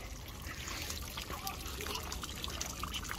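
Water runs and trickles steadily in a fountain on the stone stairway at Bom Jesus in Braga, a constant close splashing flow with faint voices in the background.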